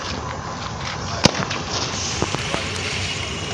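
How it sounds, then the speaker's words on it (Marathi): Diwali firecrackers go off outdoors, with one sharp crack followed by a few smaller pops over a steady background hiss. "आता दुसरा बॉम्ब डबल शॉट"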